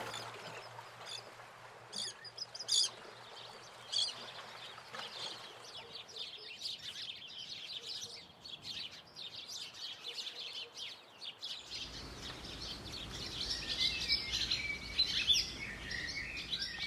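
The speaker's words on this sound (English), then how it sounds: "The Sparrows of George Street." Sparrows chirp continuously in a large bush halfway along George Street toward Cellardyke Harbour in East Fife, a dense, overlapping chatter of many birds, fairly close, with a low steady hum beneath that cuts out partway.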